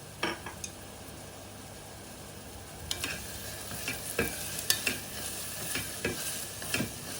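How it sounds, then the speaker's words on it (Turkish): Onions and chopped sucuk sausage sizzle and crackle in a hot pan while a utensil stirs and scrapes repeatedly, up close, with no voices. "Soğanlarımız kavrulduktan sonra doğramış olduğumuz sucukları da ekliyoruz."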